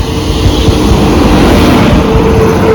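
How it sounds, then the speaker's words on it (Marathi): A loud, continuous rumble of the Rajdhani Express train rolling into a station in India, heavy and close, with no voices. "आपली ट्रेन आलेली आहे बघा राजधानी"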